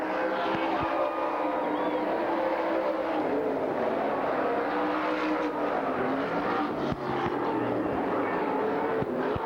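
Race cars at Silver Spring Speedway finishing a heat race on the final lap, a continuous loud drone of several engines roaring around the track with shifting pitch as cars pass.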